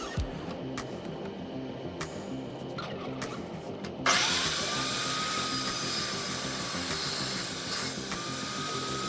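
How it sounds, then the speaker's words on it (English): An Evolution saw cutting slat grooves for a plasma water CNC table, starting with quiet rubbing and handling sounds before the blade bites in with a loud, sustained high-pitched whine that holds steady to the end. "I used the Evolution again to cut the slat grooves"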